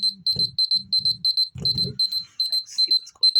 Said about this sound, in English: that's my alarm that I got to get ready to take Brian